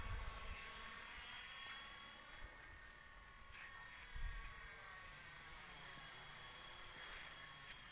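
Small V912 radio-controlled helicopter flying, a steady high-pitched motor and rotor whine that holds throughout, with faint low bumps beneath it.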